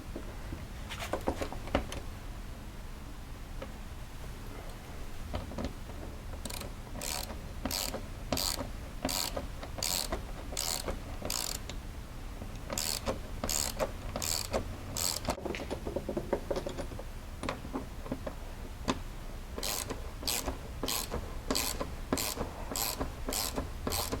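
13mm wrench ratcheting nuts on a 2020 Polaris General, crisp clicking ratchet strokes in quick regular bursts, close and clear over faint background noise.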